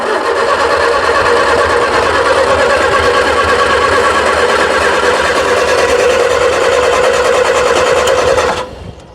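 A gutted vintage sports car engine, left sitting for years, cranks on a start attempt with a loud, steady, rapid churning that runs unbroken for several seconds before cutting off abruptly.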